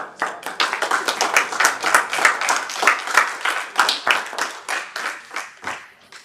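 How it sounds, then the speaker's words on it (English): Applause for the teachers at a service, sounding like a small group clapping in a quick, uneven rhythm with distinct individual claps, close and lively, fading toward the end. "Once again, round of applause"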